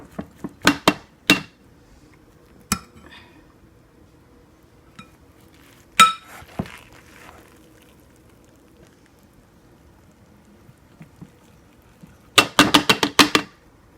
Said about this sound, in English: go ahead and start scooping it out and putting it into your jar